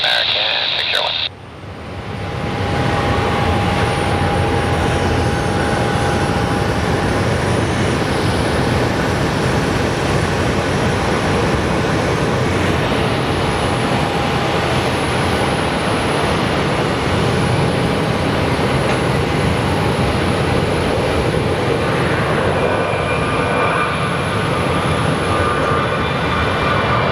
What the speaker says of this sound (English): Southwest flight's going to El Paso, the next one taking off